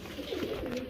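Pigeons cooing at a bird enclosure after rain, a soft low murmuring coo rising and falling across a quiet background.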